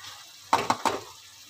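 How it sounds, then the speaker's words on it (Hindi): Green chilies frying in a pan of beef karahi, with a soft steady sizzle underneath and three quick, bright bursts of spitting and scraping in a row. "सब्ज़ मिर्च डाल के उसको भुना जाता है"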